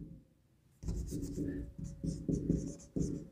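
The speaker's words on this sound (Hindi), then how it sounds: "तो यहाँ हम लिखते हैं कि" Chalk or marker scratches across a board in a classroom science lesson, several steady strokes in quick succession, close and fairly quiet, with no voice over it.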